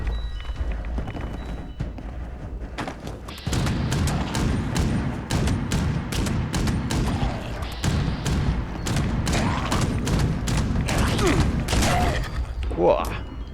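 Rapid volleys of gunshots in Fallout 76, sharp repeated cracks fired in irregular bursts, loud and close, with some talk over the firing.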